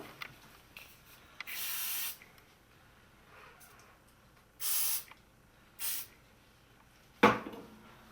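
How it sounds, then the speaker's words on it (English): Aerosol hairspray sprayed onto a child's hair loop during braiding, three steady hissing bursts of about a second each with pauses between, close and clear, followed by a sharp click or tap. "So now I'm going to spray this part with an aerosol."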